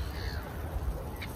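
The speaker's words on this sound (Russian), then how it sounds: "Чайки кричат." Gulls crying over the Gulf of Finland shore, a single short harsh call rising briefly near the end above steady wind and low rumble, fairly distant.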